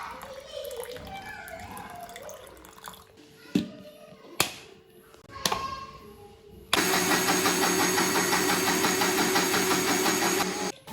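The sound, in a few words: mixer grinder churning butter with water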